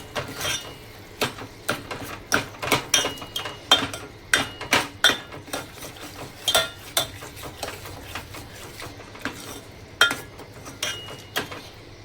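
A spoon stirs chili powder into mixed dal in a metal pan, making close, repeated clinks and scrapes against the pan in an irregular rhythm.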